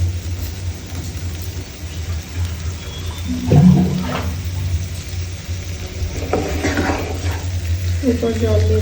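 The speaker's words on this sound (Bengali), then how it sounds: "এরপর জল দিয়ে দেবো।" Water pours into a cooking pan for mango fish curry, a gushing splash rising briefly and then settling into a low bubbling, with a low hum underneath throughout.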